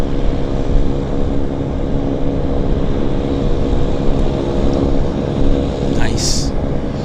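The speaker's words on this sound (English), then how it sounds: "we got a lander on the other side. Dreamliner coming in." A Boeing 787 Dreamliner landing at Vancouver airport produces a loud, steady low roar of engine noise, with people talking close by over it.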